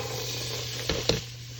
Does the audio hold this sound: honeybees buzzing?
no